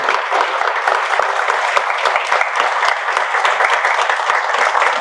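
Dense, loud applause from an audience honouring a historian, continuous even clapping from many hands filling the whole stretch with no voices on top.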